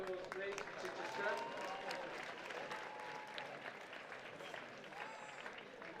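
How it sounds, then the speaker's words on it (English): Distant crowd applause at a school athletics day, a soft continuous patter of many hands clapping, heard faintly and steadily throughout. "Round of applause, please"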